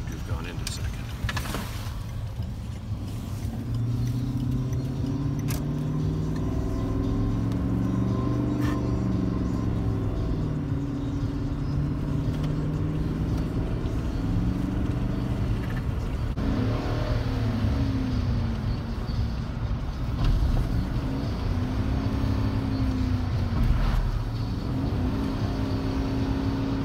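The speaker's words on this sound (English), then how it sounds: "It's actually in second now. Drive it up second here because it seemed to have gone into second." A truck drives along with a steady engine drone, its pitch rising and falling as it shifts gears, running continuously under people talking inside the cab.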